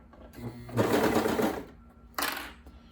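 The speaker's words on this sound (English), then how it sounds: "I'm just gonna kind of show you on my serger" A serger stitches fabric in two quick motorized bursts, the first longer, the second short, with soft handling noise between.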